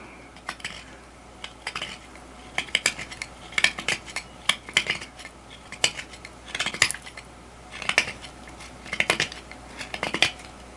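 A knife edge cutting through a pork rib bone, repeated sharp scraping and cracking strokes in uneven bursts, close and moderately loud with no talking.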